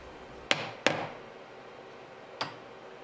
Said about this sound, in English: Knock it in firmly, seat it down.